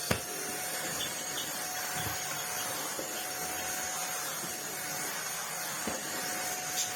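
A Greenote GSC60 cordless vacuum with its mini turbo tool picking up dirt from the floor: a steady, fairly loud motor whine with a constant tone and a few brief clicks and knocks.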